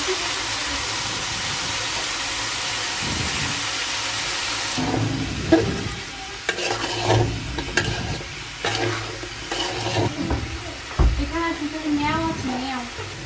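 Vegetables hit a hot pan with a loud, broad hiss that then settles into a softer sizzle, with scattered stirring clatter near the microphone and faint background noise.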